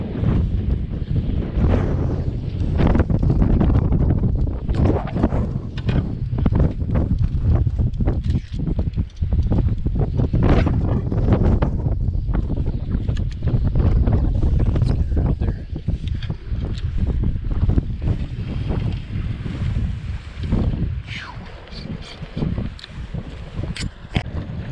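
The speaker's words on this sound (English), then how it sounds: "the wind is howling" Strong wind roars and gusts continuously, loud and close, with splashing water and a fishing boat's rumble beneath it.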